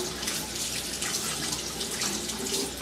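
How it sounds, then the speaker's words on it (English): Water runs steadily from a tap as shaving lather is rinsed off a safety razor blade, a continuous close hiss of flowing, splashing water with no talk. "my lather's rinsing cleanly off my blade"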